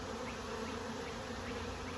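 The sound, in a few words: swarm of honey bees entering a hive box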